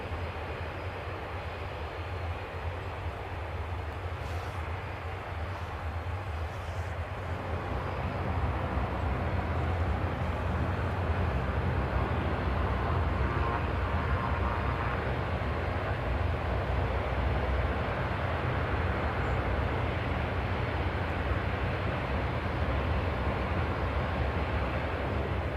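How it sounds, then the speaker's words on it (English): A Jazz Dash 8 turboprop airliner taxis toward the terminal at Kelowna airport, its engine drone a steady, loud rumble with a low hum that swells slightly partway through and then holds, with no talk over it. "The Jazz Dash 8's pulling into the terminal."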